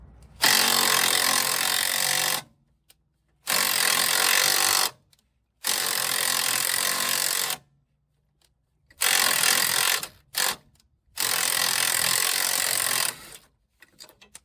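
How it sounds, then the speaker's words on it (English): A Makita 1/4-inch impact driver runs on the receiver hitch bolts of a Jeep XJ, firing in loud, harsh rattling bursts of about two seconds each, five long runs and one short blip separated by brief silences. "I'm not using my 1/2-inch impact or air gun, just using the 1/4-inch Makita impact."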